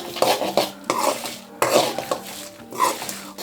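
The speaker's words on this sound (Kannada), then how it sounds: "ಫ್ರೈ ಮಾಡ್ತಾ ಬರಬೇಕು" Spoon stirring and scraping puliyogare spice masala as it roasts in a pan over a low flame, with repeated close metallic clinks and scrapes in an uneven rhythm and a faint sizzle underneath.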